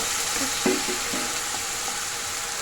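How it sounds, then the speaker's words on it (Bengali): Onions frying in very hot oil for chicken ghugni, a steady close sizzle with a couple of short bubbling spurts. "পেঁয়াজটা ভালো করে একটু ভেজে নিচ্ছি"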